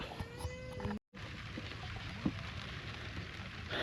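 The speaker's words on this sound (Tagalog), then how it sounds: "Ay, salamat Lord at merong konting ambon." A light drizzle falls over a vegetable garden, making a soft, steady hiss of rain that is faint and constant throughout, broken by one brief gap, with no voices.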